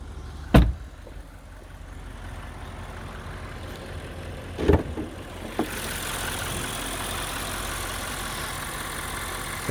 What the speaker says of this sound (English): here is your 4-liter twin turbocharged V8, making all that power